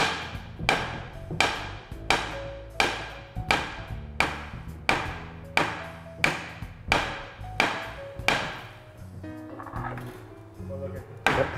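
A hammer strikes repeatedly during boat deck restoration, about a dozen sharp knocks landing at a steady pace of roughly one every second, each ringing briefly and fairly close, with faint voices heard near the end.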